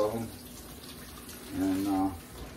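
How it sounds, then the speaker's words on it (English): Cold tap water running over quail-popper peppers as seeds are rinsed off, a soft steady splash under a kitchen setting, with brief talk at the start and a louder voice near the end. "I just run them under the cold water, get all the seeds off of them."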